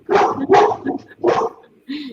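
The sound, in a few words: dog barking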